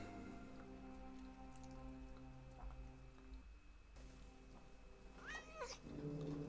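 A cat in the movie Alien meows once near the end, a short rising and falling cry over steady rain-like patter, low hum and faint tonal background score, fairly quiet overall.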